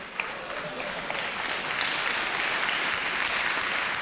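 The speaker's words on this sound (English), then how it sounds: "another round of applause, please, for Joe Dow" Steady, dense applause from a television singing competition audience as a contestant leaves the stage, broad and sustained at a fairly loud level throughout.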